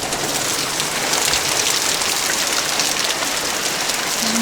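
Heavy rain pours down hard enough to be mistaken for hail, a steady dense hiss of drops pounding surfaces close by, loud and unbroken throughout with no voices.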